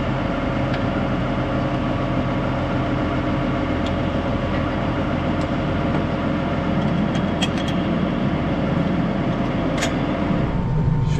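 A New Holland T7 260 tractor pulling a 5-metre Bonnel stubble cultivator through a maize field drones steadily and loudly at close range, with faint clinks and rattles over the engine.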